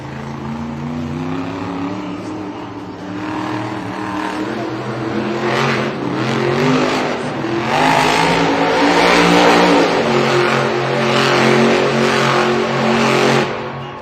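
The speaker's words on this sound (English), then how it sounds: "coming up next, the man who's trying to crawl back to his way and get the overall event victory in his 20th year competition, Adam Anderson, Gravedigger" Grave Digger monster truck at a Monster Jam stadium event in Kansas City, its big engine roaring and revving in rising and falling surges over a steady crowd din, loud and continuous for the whole stretch.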